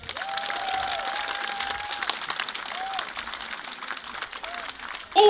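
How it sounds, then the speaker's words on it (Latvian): A fairly faint patter of audience applause at a farewell on a Latvian stage, with a drawn-out vocal tone running above it before the clapping swells near the end. "Lai skan vēlreiz skaļi aplausi."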